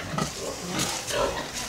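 A restless sow at a piggery grunts and snuffles low and steadily through a short, fairly faint stretch of barnyard noise, with no clear speech.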